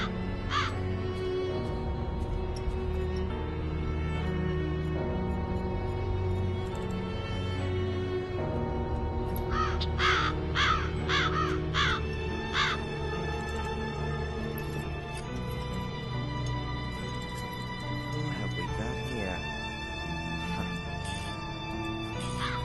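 A raven caws repeatedly in the Black Mirror 2 video game, harsh calls in irregular bursts over a steady layered ambient backdrop, louder in a cluster around the middle.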